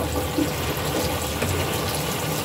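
Running water flowing steadily outdoors near chickens, a constant broadband rushing wash that stays even and fairly loud throughout, with no voices.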